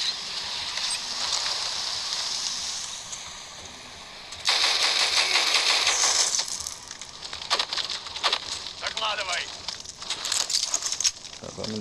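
Gunfire from a video game set in a forest, heard as rapid crackling bursts of shots mixed with other game noise, fairly loud, with people talking over it.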